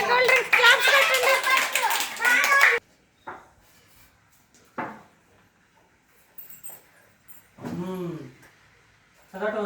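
Children clap together during a classroom mime guessing game, a brisk burst of clapping mixed with chatter for a few seconds, followed by quiet taps and a short voice.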